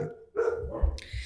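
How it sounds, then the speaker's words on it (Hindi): Dogs bark outdoors, a couple of short muffled barks carrying in from a distance over a faint room hum. "बाहर कुत्ते भौंक रहे हैं"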